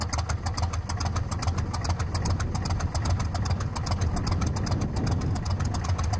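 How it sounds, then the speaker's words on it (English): An aircraft engine starts and runs at a steady idle, with a close, even throb and a rapid rhythmic knock that continues throughout. "the starting of an engine and idling is music to their ears"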